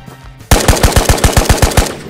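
Automatic gunfire in the VR shooter Ghosts of Tabor, a sharp burst of about eleven rapid, evenly spaced loud shots that starts abruptly after a brief quiet moment.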